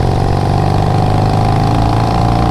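Superbike engine running loud and close during a Sunday group ride in India, a steady deep rumbling drone with a throbbing low pulse that holds evenly throughout.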